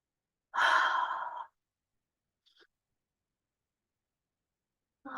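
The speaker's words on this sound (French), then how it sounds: "Et inspirez en même temps." A single sharp inhale, close and clear, drawn while the sides of the nose are rubbed with the edge of the index fingers, followed by a very faint soft sound and then quiet.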